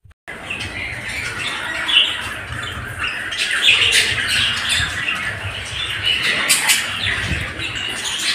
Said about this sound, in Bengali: এই পাখিগুলো হচ্ছে অস্ট্রেলিয়ান বদ্রি পাখি